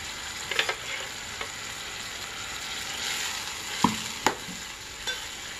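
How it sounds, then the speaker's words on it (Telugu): Mint and tomato stirred in a frying pan for pulao, a steady low sizzle with a few sharp spatula clicks and scrapes against the pan, close but fairly quiet. "వేసుకొని బాగా అడుగుదాకా కలుపుకోవాలి"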